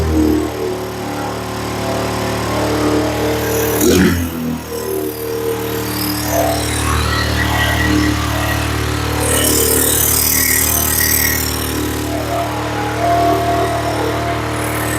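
A Honda Recon ATV engine fitted with a new aftermarket carburetor and no choke hooked up runs steadily and loudly close by, with a brief stumble and rev change partway through, then keeps droning with uneven throttle.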